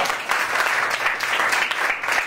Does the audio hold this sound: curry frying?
no